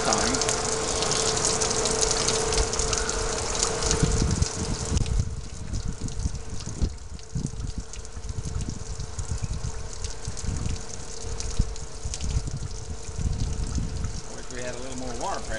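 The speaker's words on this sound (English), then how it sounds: "Wish we had a little more water pressure because that would take care of it in a hurry." Water gushes steadily through an oil separator under low household water pressure, a continuous rushing flow close to the microphone, a little louder in the first five seconds and then slightly subdued but unbroken to the end.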